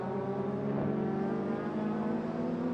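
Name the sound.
race cars including a Holden Commodore racing at Sydney Motorsport Park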